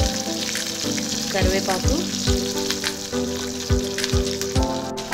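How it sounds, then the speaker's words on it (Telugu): Cumin, mustard seeds and onion-tomato paste sizzle and pop in the same oil used to fry brinjal for a Konaseema curry, making a steady, close frying crackle with intermittent stirring clatter under a brief spoken word. "వంకాయలు ఫ్రై చేసుకున్న ఇదే ఆయిల్లో జీలకర్ర, ఆవాలు, ఆనియన్ అండ్ టమాటో పేస్ట్,"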